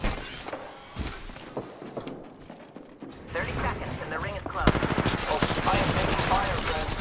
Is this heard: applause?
no